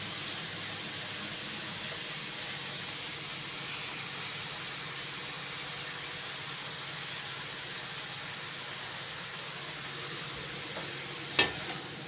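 Mushroom noodles stir-fried with vegetables in a pan, giving a steady sizzle with soft scraping of the stirring throughout, close and even, with one brief sharp clink near the end.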